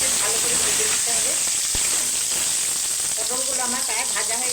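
Pieces of pointed gourd (potol) fry in a pan with a loud, steady sizzle and hiss that runs throughout, broken by a single sharp utensil tap and faint voices murmuring beneath.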